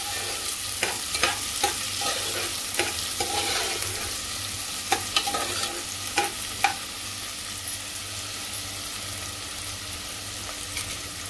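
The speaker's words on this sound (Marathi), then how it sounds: "चांगला परतून घ्यायचं आहे" Onion masala for chickpea amti sizzles steadily in hot oil in a pan while a spoon scrapes and stirs it, leaving sharp intermittent clinks and scrapes over the constant frying hiss.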